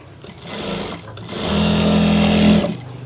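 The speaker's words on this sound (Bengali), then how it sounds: "এবার এদিকে চাপ সেলাই করে দিয়ে দিন।" A sewing machine stitches the back pocket of a pair of pants, whirring loud and close in two bursts, a short run followed by a longer steady one.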